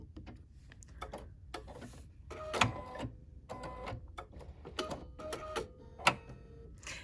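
A BERNINA sewing machine with a binder attachment sews in short, separate bursts of stitching with a few sharp clicks between them, fairly close and with no talking.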